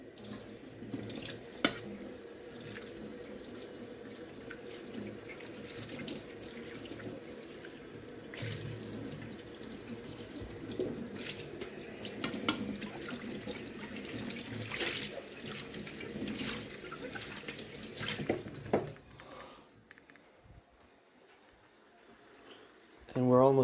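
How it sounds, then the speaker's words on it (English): Running tap water splashes steadily while a pan is washed in a kitchen sink, a continuous soft hiss with small clinks, before the flow cuts off near the end and a louder noise follows. "Let's give this a quick wash."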